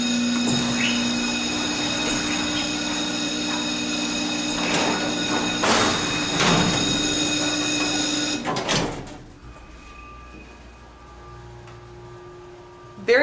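A 1966 Otis hydraulic freight elevator with automatic doors runs steadily with a loud mechanical hum and rumble. Clanks and door movement sound near the end, then the noise drops to a quiet hum.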